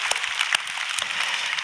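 Church congregation applauding, a brief wash of many hands clapping with a few sharper individual claps standing out.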